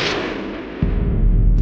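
A single loud sniper rifle shot in a war film, a sharp crack followed by a low booming rumble that carries on to the end.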